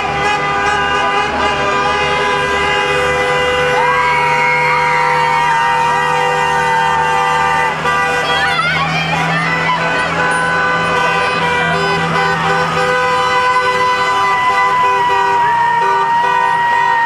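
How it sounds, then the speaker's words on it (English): School buses pass close by on the last day of school, a loud continuous engine drone with sustained and repeated horn toots layered over it. "And the bus is coming around again."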